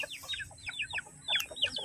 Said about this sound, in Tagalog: Yung ating mga manok, oh.